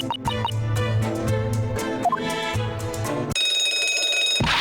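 Telephone ringing in The Great Ace Attorney video game, a bright repeated electronic ring over game music, then a steady sustained tone toward the end.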